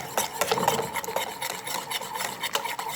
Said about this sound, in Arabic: وغادي نحرك بالفوال مزيان